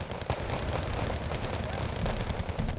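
Grenade launcher firing at infantry in the Wargame: Red Dragon Second Korean War campaign, a dense stretch of repeated thuds and blasts mixed with rattling gunfire, moderately loud and continuous.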